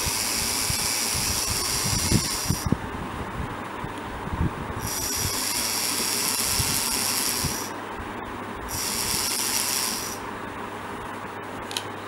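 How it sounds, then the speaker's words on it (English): A fuel pump coupled to a small brushed DC motor runs with a steady, close whine and hum, its pitch shifting up and down in stages, with no speech. "It's a fuel pump which is coupled to our DC motor, and it's now being connected to the brushed ESC."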